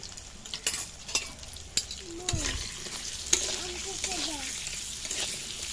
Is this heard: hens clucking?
no